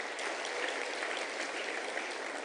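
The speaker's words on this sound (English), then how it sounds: "So I think we need to applaud that" Steady, dense applause from an audience at a live Women in Science awards ceremony, continuous and even throughout with no voices standing out.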